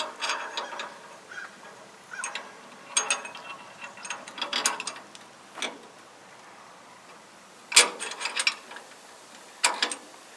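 A ratchet tightens a 12 mm suspension bolt on a C-10 fitted with Roadmaster Active Suspension, giving close, crisp bursts of rapid clicking separated by short pauses.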